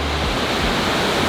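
A waterfall in Nikko, Japan, a loud, continuous, dense roar of rushing water with no pauses or speech.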